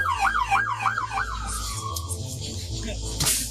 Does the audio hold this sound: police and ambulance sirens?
yes